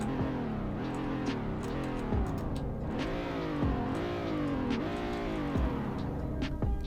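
Car engine in the Greenville video game, a base 3.0 trim, revving repeatedly with rising and falling pitch sweeps, loud and close, heard alone.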